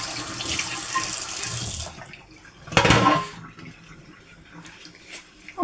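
Tap water runs into a sink over dyed embroidery fabric being rinsed, a close hissing flow that fades, then a brief louder gush midway before quieter trickles and drips.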